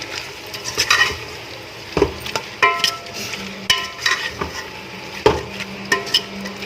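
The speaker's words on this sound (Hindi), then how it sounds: "अब हम इसके अंदर गाजर डालेंगे, ये इसके अंदर मिक्स करेंगे हम" Spoon stirring carrots into a pot of mixed vegetables with potatoes, peas and fenugreek, a series of scraping, clattering strokes against the metal over a low simmering sizzle, close and fairly loud.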